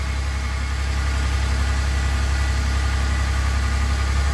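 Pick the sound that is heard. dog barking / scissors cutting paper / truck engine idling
truck engine idling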